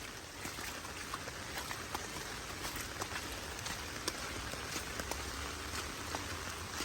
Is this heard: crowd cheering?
no